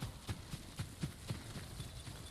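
Rhythmic horse hoofbeats in Ghost of Tsushima clop along at an even walking pace, about eight or nine soft thuds, moderately quiet over a faint background hum.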